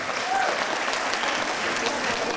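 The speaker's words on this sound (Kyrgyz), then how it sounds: "Калыстар тобуна бир дүркүрөтө кол чаап койлу келиңиздер" An audience applauds the jury at a Best Teacher of the Year 2016 competition in Osh, loud sustained clapping from a full hall that stays even throughout.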